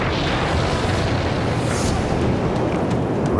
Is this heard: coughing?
no